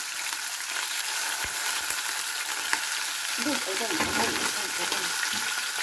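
Marinated chicken fries in a pan with a loud, steady hiss and constant spattering sizzle, close up, with faint stirring clinks and a voice briefly heard.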